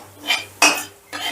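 A metal spoon scrapes and clinks in a pan three times as dried chillies, bay leaves and cumin are stirred in hot oil and ghee. Each stroke is close and brief, with faint sizzling underneath.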